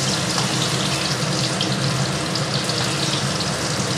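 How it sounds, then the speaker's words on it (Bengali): Ridge gourd fritters fry in hot oil with a loud, steady, close sizzle and crackle that continues without a break. "এবার একটু ভাজুক, এক পাশটা হয়ে গেলে উল্টে দেওয়া হবে।"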